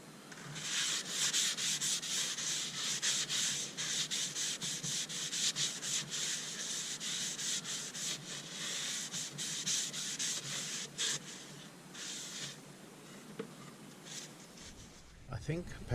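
Abrasive paper works a sapele wood fruit bowl spinning on a lathe, making a continuous close scratchy rasp that pulses gently. It fades out near the end.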